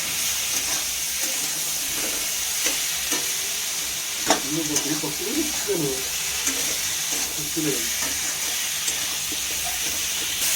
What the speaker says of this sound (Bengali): মশলাটাকে ভালোভাবে কষিয়ে নেওয়া হচ্ছে।